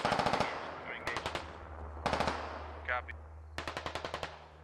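Grenade launchers fire in the video game Squad in quick bursts of sharp, evenly spaced reports, four volleys in a row with brief gaps, moderately distant over a low steady hum, plus a short radio-like chirp.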